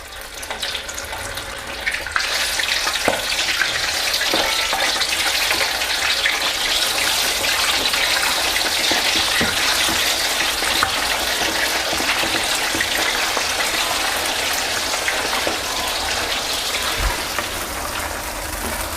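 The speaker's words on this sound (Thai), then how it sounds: "ทีนี้ก็นำกุ้งลงไปทอดได้เลยครับ" Shrimp deep-frying in a pot of hot oil left over from frying garlic, giving a loud, steady, dense crackling sizzle that runs without pause for the whole stretch, with no talking.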